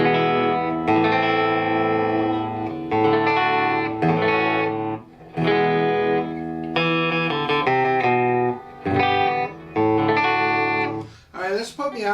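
A Gretsch Players Edition Falcon electric guitar on its middle pickup, with the tone rolled back slightly, plays a sequence of clean strummed chords and picked phrases with short pauses between them, ending in a few quick scratchy notes.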